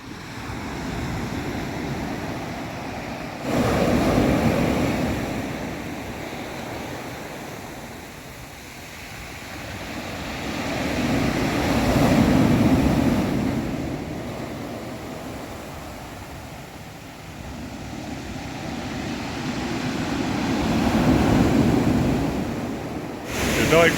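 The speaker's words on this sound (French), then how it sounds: "J'adore écouter le son des vagues comme ça." Choppy sea waves wash against a pier in slow surges that swell and fade roughly every eight seconds, under steady wind buffeting on the microphone.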